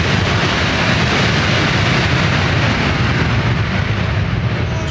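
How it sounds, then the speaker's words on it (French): An Air Caraïbes airliner takes off with a loud, steady, close roar of jet engines that fills the whole stretch without letup. "Tu dis au revoir l'avion. Ça y est, il s'est envolé."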